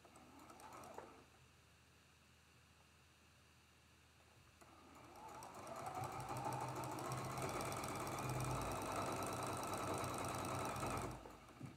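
A sewing machine stitches the connecting seam of a traditional quilt block, starting after a quiet stretch and running steadily for several seconds close by before stopping.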